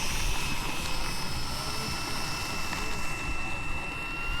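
Continuous drone of a plane's aircraft engine flying at Fritz Field, a steady whine with a slowly fading roar that stays moderately loud throughout, with no voices heard.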